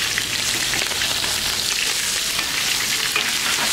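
Wild river fish fry over high heat in a pan, making a loud, dense, unbroken sizzle that holds steady throughout, with no one talking.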